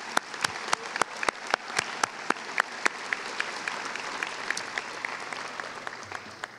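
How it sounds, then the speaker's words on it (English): Applause at a high school graduation ceremony, a crowd clapping steadily in a large hall with sharp individual claps standing out, fairly distant and gradually thinning toward the end. "Another round of applause, please."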